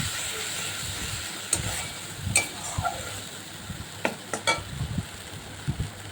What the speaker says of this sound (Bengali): এই মশলাটা দিয়ে আমি ভালো করে সুন্দর করে আবারও মশলাটা কষিয়ে নেব